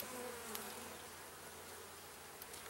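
Honey bees in an opened hive during a first inspection after installation make a dense, continuous buzzing hum, steady and close, with a few brief louder passes of individual bees.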